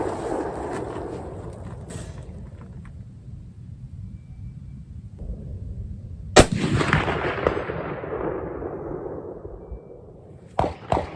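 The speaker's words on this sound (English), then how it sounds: "these last two shots are HXP" Two sharp, loud rifle shots from a Belgian Mauser .30-06 firing HXP ammunition crack out outdoors several seconds apart, each with a rolling echo that fades away, over a faint background hum.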